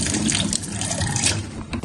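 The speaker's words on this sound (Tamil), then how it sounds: "ஒரு குக்கரில் போட்டு தண்ணி ஊற்றி" Water gushes into a pressure cooker holding horse gram, a short, loud, close splashing pour that runs continuously for under two seconds.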